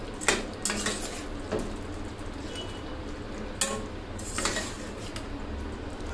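Punjabi style chicken with chaat masala being stirred in a pan, metal utensil scrapes and clinks over a low sizzle at an irregular pace, close and without talk.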